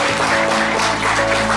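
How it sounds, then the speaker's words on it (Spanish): Slow applause for a couple at a collective wedding ceremony in Apazapan, 2023, a continuous crowd clapping wash over a low steady hum, brief and fairly loud. "Aplauso lento para ellos."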